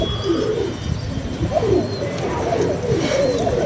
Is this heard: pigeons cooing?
yes